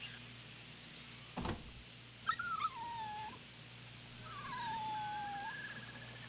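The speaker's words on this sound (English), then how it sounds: "Yeah, it's Brown. This is where she found Brown then." Puppy Brown, a dog in the video game Rule of Rose, gives a few high, drawn-out whimpers, sliding down in pitch, after a dull knock and a short scraping noise, over a steady low hum.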